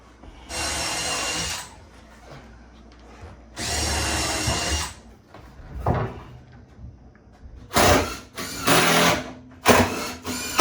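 A power drill whirs loudly in several bursts while installing kitchen cabinets and toe kicks, two long runs followed by shorter rapid pulses, with quiet gaps and a thump between them.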